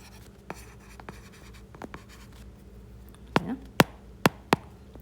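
Pen or marker writing a heading on a board or tablet during a Tamil-language capital gains taxation lecture: a string of short, sharp strokes and taps, quiet at first and then louder near the end, with no talk.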